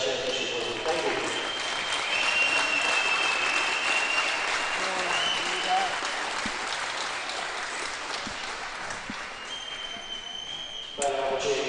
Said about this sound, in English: Once again, big round of applause for runners-up